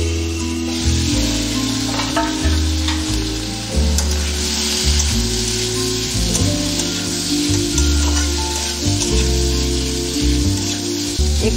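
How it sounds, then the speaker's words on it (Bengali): Potatoes fry in oil in a covered pan as a first step toward banana-stem poppy-seed curry, giving a steady, loud crackling sizzle that runs unbroken throughout, with occasional louder pops and no voices. "একটু আলুগুলো ভাজা ভাজা হোক,"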